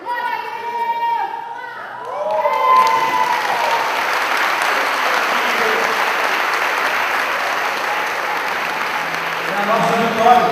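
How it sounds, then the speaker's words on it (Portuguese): An audience at a theology seminary graduation rises to its feet and applauds, loud sustained clapping that fills the room after a speaking voice, with the voice returning at the end. "É a nossa vitória, vamos aplaudir de pé."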